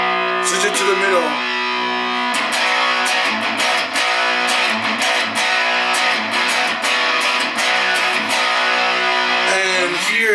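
A refurbished Ibanez electric guitar with the pickup selector in the middle position, played with heavy distortion: loud, continuous chugging chords and riffs with a thick, saturated tone, no voices.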